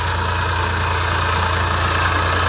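A tractor engine idles close by in a loud, steady low drone with an even throbbing pulse and no voices.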